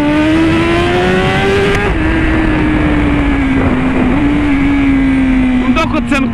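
A car in a video game drones steadily at high revs. The engine tone holds fairly level with small shifts, loud and continuous throughout.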